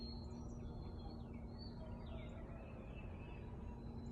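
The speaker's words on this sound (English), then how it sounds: "Hear the birds." Birds chirp and sing faintly in the distance on a morning in the hills, thin calls over a steady low hum of background noise.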